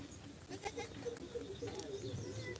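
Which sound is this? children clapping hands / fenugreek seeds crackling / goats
goats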